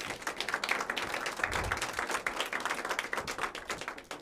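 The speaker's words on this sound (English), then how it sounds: "Can we give them a round of applause?" A full-house audience at a salon night gives a round of applause, steady dense clapping throughout, moderately distant and even in loudness.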